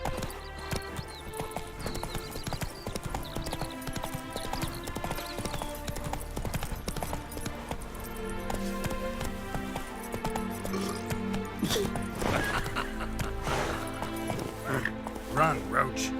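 Hooves clop at a gallop in The Witcher 3, mixed with a horse's whinny, clinking tack and game music, while a person talks over it throughout.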